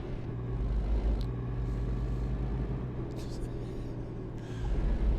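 Semi-truck engine droning steadily at high revs in American Truck Simulator, a continuous low rumble with a faint hiss, heard beneath a voice.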